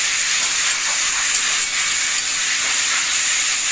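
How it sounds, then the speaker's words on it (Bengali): Spice paste sautéing with a splash of water in a pan for a vegetarian potato and pointed gourd curry gives a steady, even hiss of steam and sizzle that holds at one level throughout, with no talking. "সামান্য জল দিয়ে মশলাটাকে ভালো করে কষিয়ে নেব।"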